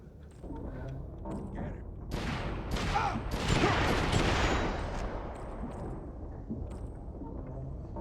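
Rapid bursts of gunfire and automatic weapons from a first-person shooter game, dense and continuous through the middle stretch, with a player talking over the action.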